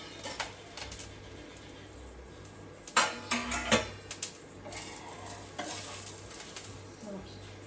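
A pan-fried snack of raw rice and potato with cumin, green chilli and garlic sizzles quietly, broken by a clatter of metal as the lid comes off, followed by stirring scrapes and soft utensil clinks.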